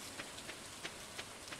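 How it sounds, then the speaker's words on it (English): Soft, steady rain falls in the Stardew Valley farming game, a faint, even hiss with a few slightly brighter patters spaced through it and no voices. "It's raining currently"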